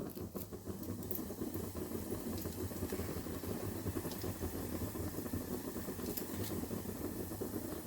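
Spices tempering in hot oil for elephant yam varuval give a faint, steady crackling sizzle that stays even throughout, with no voices.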